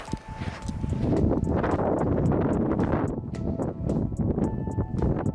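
Wind gusts across a microphone on an outdoor trail at Sunset Crater in Arizona, a loud, steady rumbling buffet with a few faint ticking and crunching sounds mixed in.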